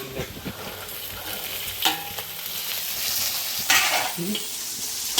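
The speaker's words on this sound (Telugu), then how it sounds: "పచ్చిమిర్చి అన్నీ బాగా వేయించుకోవాలి మనం" Green chillies and onion for street-style fried rice are stir-fried in a hot pan, a close, loud, continuous sizzle broken by scraping stirs and a few clinks of the spatula.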